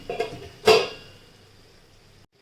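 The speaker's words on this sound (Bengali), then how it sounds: "ঝোলটা একটু আমি ঢাকা দিয়ে দিলাম আলুগুলো একটু সেদ্ধ হওয়ার জন্য।" A lid is set onto a pot of curry with potatoes simmering in water: one sharp metallic clank near the start, ringing briefly and fading over a low kitchen hum, no talk.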